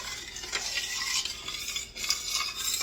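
Tomato basil soup bubbling in a pot over raised heat, a steady close hiss with soft sputtering pops and a brief clink of a utensil partway through.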